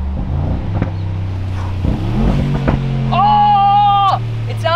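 Custom Brabus G-Wagen engine revving loudly up close, with deep rumbling bursts and a rising, held high-revving whine near the end.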